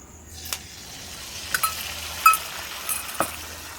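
Food sizzles softly in a frying pan, a low steady hiss punctuated by a few sharp metallic clinks and taps of a utensil against the pan.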